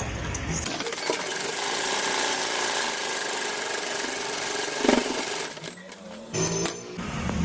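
A sewing machine stitches sleeves onto a boat neck kurti, running as a steady, close whirring hum for several seconds before stopping briefly and restarting in shorter bursts.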